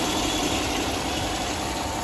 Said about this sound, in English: hopefully you can hear me over the engine